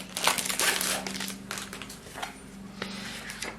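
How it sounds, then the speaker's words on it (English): Plastic wrapping on a Hobonichi planner cover crinkles and crackles in irregular bursts, close and fairly quiet, with a few sharper rustles spaced across the moment. "So excuse the plastic noise."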